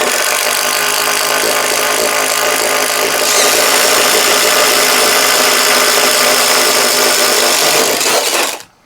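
A Ryobi impact driver turns a 3/4 inch bit in one loud, continuous close-up grind that rises slightly partway through and stops abruptly at the end.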